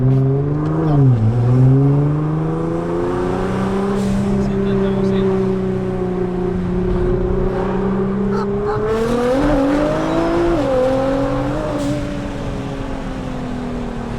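A Nissan GT-R sports car engine runs near the microphone with a steady harmonic drone that dips and rises in a few revs. A person talks briefly over it.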